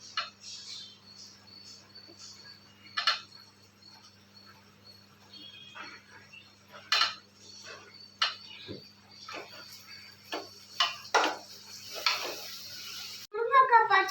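Brinjal and drumstick pieces stirred in a pan for a murungakaai poriyal kuzhambu, soft sizzling with scattered clinks and scrapes of a spoon against the pan, fairly faint and close.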